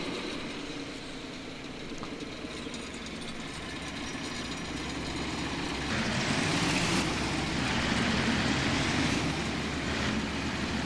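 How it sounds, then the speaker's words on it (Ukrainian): A combine harvester engine in Farming Simulator 25 runs steadily after starting, a continuous loud low rumble with mechanical rattle that grows slightly louder and brighter midway, with no talking over it. "запускаємо нашого колоса, запускаємо нашого пускач працює, пішов пускач, голубеньким димком димить, все, запустився мотор."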